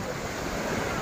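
Sea waves at Da Nang beach in Vietnam, a steady broadband wash of surf with wind rumbling against the microphone, continuous and fairly faint, with no talking.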